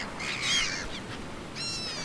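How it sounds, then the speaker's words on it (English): Seagulls in the island survival game Stranded Deep, a few short high calls, one burst near the start and another near the end, fairly faint over soft ambient noise. "Being mocked by seagulls."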